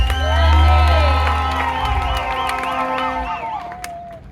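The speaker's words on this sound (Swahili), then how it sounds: "Hebu piga kelele za shangwe kwa Yesu" A congregation at an outdoor gospel crusade shouts and cheers for Jesus, a swelling mass of raised voices and whoops that peaks early and then slowly tapers off.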